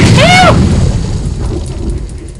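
A heavy grenade blast in the Flash game Interactive Buddy, a loud booming burst at the start with a whistling tone, then a rumbling decay over the next two seconds.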